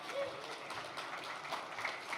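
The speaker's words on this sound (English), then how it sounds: "Another round of applause for Christine." Applause from a conference audience for a speaker at an Ethereum developer event in Denver, a steady, moderate wash of many hands clapping at some distance, with faint talk mixed underneath.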